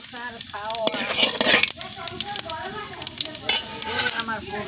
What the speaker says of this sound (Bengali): ফোড়নের জন্য দিয়ে দিলাম তেজপাতা, শুকনো লঙ্কা, দারচিনি, সমস্ত কিছু দিয়ে